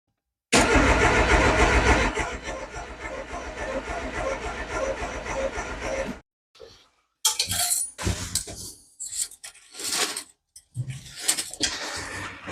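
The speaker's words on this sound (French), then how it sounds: "C'est l'heure du démarrage." A car engine cranks and catches, running loudly for several seconds before cutting off, followed by intermittent clanks and metallic rattling nearby.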